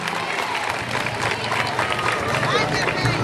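A church audience breaks into sustained applause for Jesus Christ at a Christmas peace gathering, a dense, even patter of many hands clapping, with crowd murmur under it.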